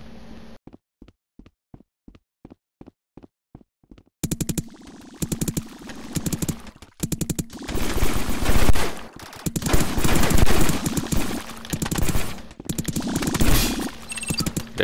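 Gunfire in the multiplayer game Rec Room: a run of evenly spaced single shots opens the passage, then heavier, denser bursts of automatic fire follow, loud and close, with chaotic game noise filling the gaps.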